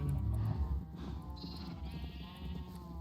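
Sheep bleat in a video game, one loud close bleat at the start followed by softer, lower bleats over background game sounds.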